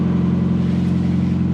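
A VW Golf 2 1800 GU engine fitted with a Weber 32/34 carburetor running steadily just after starting, a close, loud, even low hum with a constant mechanical drone and no voices.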